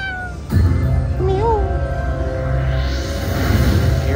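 A cat's meow from a Huff N Puff Money Mansions slot machine game rises once over a steady, fairly loud electronic drone of game music and chimes, with no talking.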